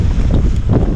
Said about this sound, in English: Wind's pretty good, it's just pretty gusty right here on the beach.